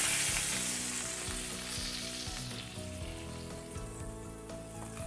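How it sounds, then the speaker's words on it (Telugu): Tempering for South Indian tomato rasam crackles and sizzles steadily in hot oil, a dense continuous frying hiss with small pops, close and unbroken throughout. "రసానికి పోపు వేసాం కదా, రెడీ అయిపోయింది, చిటపట్లాడింది."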